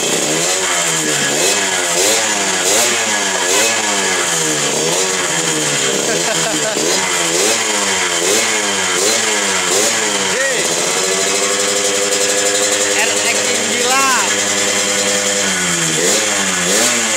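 A Yamaha RX King motorcycle engine revving hard up close, with loud rising and falling throttle blips that settle into a steady high idle, while people talk over it.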